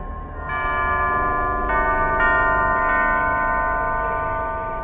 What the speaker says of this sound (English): Only by playing the correct sequence of bells can it be opened.